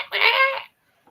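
A hen lets out a single loud, harsh squawk up close, lasting about half a second before quiet.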